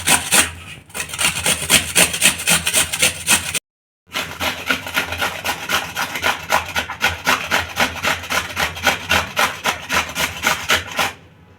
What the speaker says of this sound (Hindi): ऐसे ही हम सारा मूली घिस लेंगे।